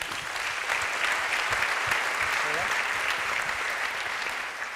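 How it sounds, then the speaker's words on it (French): Audience applause at an environmental awards evening, a steady dense wash of clapping hands that holds at an even level from start to finish with no voices rising above it. "Bravo à Sarm Énergie, on peut les applaudir."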